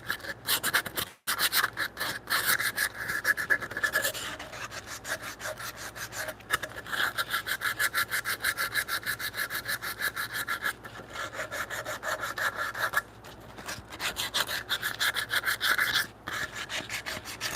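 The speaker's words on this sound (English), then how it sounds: "You take these edges and sand them down so the wood on the way in doesn't catch as much material." Wood edges are sanded down by hand in a home woodshop. Steady back-and-forth rubbing strokes run throughout at a close, even level, broken by a few brief pauses, with no talking.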